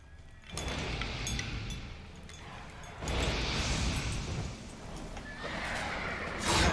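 Roach, Geralt's horse in The Witcher 3, gives several loud whinnies and neighs in bursts separated by short gaps, with a few hoof clops in between and no talking.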